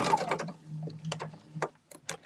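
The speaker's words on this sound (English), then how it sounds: "So I am just sewing right down here." A sewing machine stitches quilt blocks in short, quiet runs: a soft low motor hum with light ticking clicks, stopping and starting between bursts.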